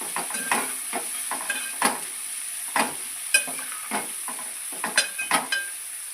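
Onions fry in a pan with a steady high sizzle, while a spatula stirs and scrapes them in short, irregular strokes, close and fairly clear, with no talking.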